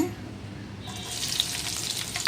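Half a spoon of mustard seeds drops into two spoons of hot oil for tamarind gojju, and after a quiet moment a loud, close, crackling sizzle takes over and keeps going.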